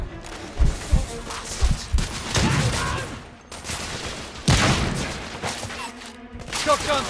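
Heavy gunfire bursts out in The Order 1886, with shotgun blasts and rapid volleys during a forest firefight with guards, loud and close, while voices shout over the shooting.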